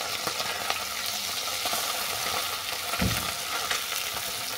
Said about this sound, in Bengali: মাছগুলো আমি সাবধানে উল্টে পাল্টে বাদামি করে ভেজে নেব।